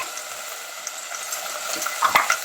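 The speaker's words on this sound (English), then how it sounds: "Once the onions get fried, I'm also going to add the chopped tomatoes." Onions fry in a pan with a soft, even hiss, and chopped tomatoes going in near the end bring a few brief wet crackles and stirring noises.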